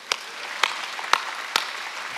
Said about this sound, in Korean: 만족할 수 있는 사람만 박수해.